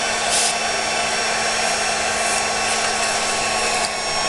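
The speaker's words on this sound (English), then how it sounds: "let's heat set that with my Marvy heat set tool" A Marvy heat set tool blows hot air for embossing, a steady loud whooshing hiss that holds evenly for several seconds with no talking.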